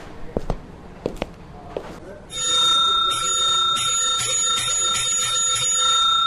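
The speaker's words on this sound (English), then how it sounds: "You don't have to ring the bell." A bicycle-style bell rings loudly and repeatedly in a bright, sustained trill after a few sharp knocks and footsteps, with people talking around it.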